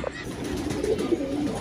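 Pigeons coo in soft, low, rolling calls close by, a steady murmur of several birds running through the whole short stretch with no clear talk.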